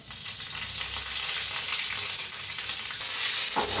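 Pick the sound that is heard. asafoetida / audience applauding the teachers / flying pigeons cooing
asafoetida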